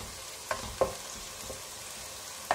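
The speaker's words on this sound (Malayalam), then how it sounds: "ഇനി പച്ചമുളകിന്റെ ഇഞ്ചിയുടെയും വെളുത്തുള്ളിയുടെയൊക്കെ റോ സ്മെല്ലൊന്ന് മാറി വരുന്നത് വരെ നമുക്ക് നന്നായിട്ടൊന്ന് വഴറ്റി കൊടുക്കാം." Green chillies, ginger, garlic and curry leaves sauté in oil for a raw mango pickle, a low steady sizzle broken by several light spoon taps against the pan.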